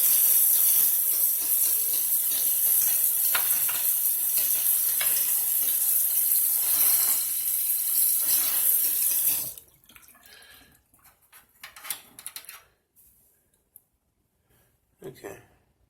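Tap water runs loudly and continuously over a circuit board being rinsed, a steady hiss for most of the stretch before it shuts off, leaving faint handling clatter and scattered small knocks.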